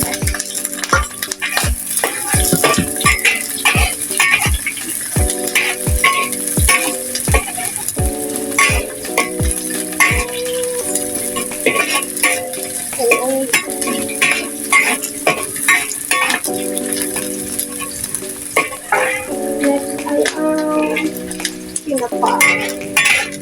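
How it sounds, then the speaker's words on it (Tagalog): Garlic and onion fry in a clay pot, a close sizzle punctuated by rhythmic knocks and scrapes of a spoon stirring against the pot, with brief clinks of utensils throughout. "Lagyan na natin yung bawang. Sibuyas."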